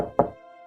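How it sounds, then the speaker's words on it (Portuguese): A single soft knock on a door in a narrated children's story about the wolf at grandmother's house, one close dull thud followed by a lingering tonal hum. "bateu a porta o mais delicado que ele conseguia com suas"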